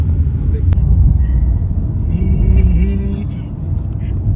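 Heavy traffic of trucks and tempos on the Nashik highway, heard from a moving car: a loud, deep, continuous road rumble with vehicles surging past and a faint tonal horn-like note midway.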